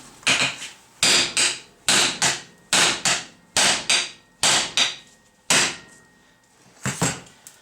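A hammer strikes hard on a stuck kingpin bolt in a steady series of about ten loud, ringing metal blows, evenly spaced close by with short gaps between them.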